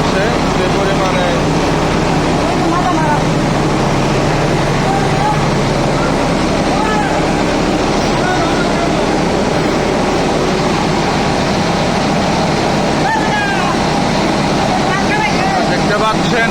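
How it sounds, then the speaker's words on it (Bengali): A 420D oil press machine crushing rapeseed runs as a dense, continuous mechanical drone with clattering texture throughout, steady and loud, while someone talks over it. "দেখতে পাচ্ছেন মেশিন চলছে।"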